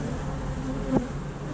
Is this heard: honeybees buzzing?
yes